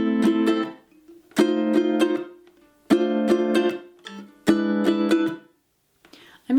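Ukulele strumming pattern for a song from Hamilton, index-finger down strums and thumb up strums in four rhythmic bursts with palm-muted chucks between, close and unaccompanied, no talking.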